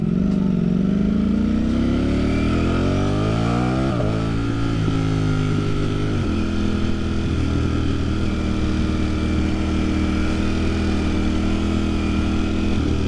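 A Ducati Streetfighter V4 motorcycle rides at speed, its engine tone sweeping and shifting through gear changes before settling into a steady loud drone, close and continuous with wind noise throughout.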